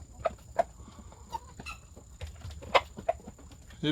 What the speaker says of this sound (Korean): 요건 토종 닭들입니다